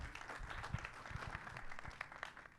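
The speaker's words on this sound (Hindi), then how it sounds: "शबाना जी के लिए एक बार जोरदार ताली होनी चाहिए" A crowd at a film trailer launch event claps for an actress, a steady patter of hand claps of moderate loudness throughout.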